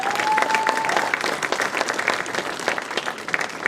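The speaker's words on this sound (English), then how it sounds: "Give them a round of applause." An audience at an opening ceremony claps for a group of drummers, a dense, steady wash of applause that stays loud and even for the whole stretch, with no voices rising above it.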